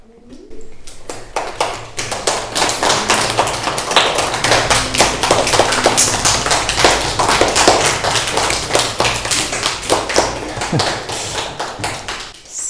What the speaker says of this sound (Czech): děkuji za potlesk